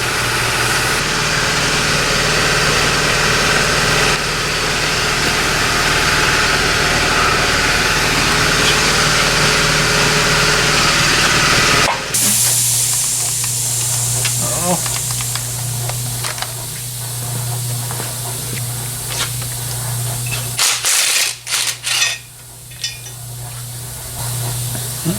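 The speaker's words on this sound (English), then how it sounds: "That explains where my exhaust leak is coming from." Cadillac 472 V8 engine idles with a steady low drone and a hissing exhaust leak from a cracked exhaust manifold, then shuts off halfway. Metallic clinks and rattles follow in the quieter shop.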